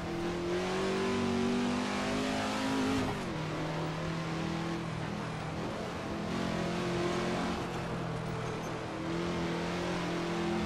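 A car engine in the racing game Assetto Corsa drones and revs steadily, with the pitch rising, then dipping briefly near three seconds before climbing again, loud and continuous with no voices.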